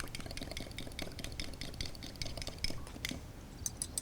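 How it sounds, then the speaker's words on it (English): Quiche mixture whisked with a fork in a bowl, quick irregular light tapping and clicking strokes with soft wet squelches, fairly quiet and close. "get your fork and whisk it up"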